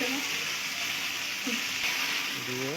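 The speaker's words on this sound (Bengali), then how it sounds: "এভাবে ভালোভাবে কষায় নেব" Beef sautéing in a pan makes a continuous broad sizzle at moderate level, with a few brief voiced sounds under the frying.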